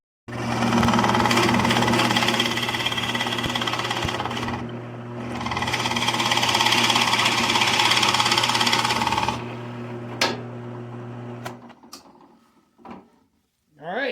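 A drill bores holes into barnwood for a candle holder, a loud continuous whine that runs for about four seconds, pauses, runs again, then stops with a few clunks and handling noises.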